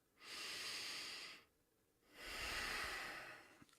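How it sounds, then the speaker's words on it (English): Two deep, slow breaths taken close to the microphone, an inhale and then a longer exhale, each a soft airy hiss separated by a short pause. "But if I take that correct lateral breath"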